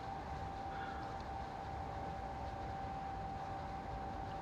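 A train powering along the down fast line from York toward North Darlington in Train Simulator Classic: a continuous, even rumble of wheels and engine with a faint steady tone, heard alone with no talking.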